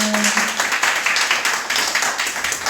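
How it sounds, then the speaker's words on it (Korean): A church congregation applauds during a Korean worship service, producing a loud, dense wash of clapping that holds steady throughout; a short sung or spoken tone is heard at the very start. "하나님께 영광의 박수 올려드리겠습니다."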